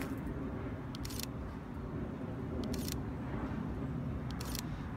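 Sony A9 camera firing its mechanical shutter at 1/32000 s with flash: three sharp, brief clicks about 1.5 s apart over steady background hum, no talk.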